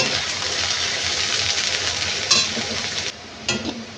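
Onions frying in hot oil for mutton biryani, a loud close sizzle with occasional stirring scrapes and brief bursts, continuous throughout without talking.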